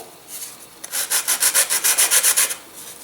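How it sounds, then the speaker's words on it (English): Sandpaper rubs a small rocket glider part flush in a quick, even series of about a dozen short, close scratching strokes, with a couple of tentative passes before the steady rhythm begins. "Sand that part off flush as well, without sanding through your covering material there."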